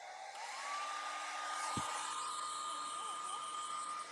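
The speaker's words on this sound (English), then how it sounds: "whenever she hears the blow dryer" A hair dryer blows steadily and loudly throughout, a constant whooshing hum with a slight tonal whine.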